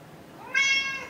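A cat gives a single clear, rising meow, close and fairly loud after a short quiet lead-in, answering a call from upstairs while it lingers downstairs with its owner.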